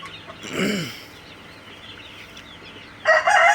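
Sonali chickens at a poultry farm, about twenty days old, cluck and squawk nearby, with a loud call early and another burst at the end over a quiet background.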